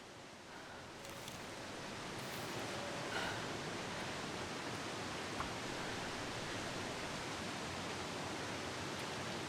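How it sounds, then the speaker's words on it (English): A steady broadband rush of falling water from a waterfall in the video game The Long Dark, constant and fairly quiet with no voices. "we should be able to see the waterfall. We can certainly hear it."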